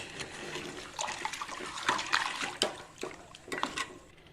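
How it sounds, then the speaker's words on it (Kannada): Jaggery water for sapota payasam bubbling and boiling in a pot, steady close liquid churning with scattered louder pops and gurgles, no talking. "ಪಾಯಸದ ಬೆಲ್ಲದ ನೀರು ಕುದೀತಾ ಇದೆ."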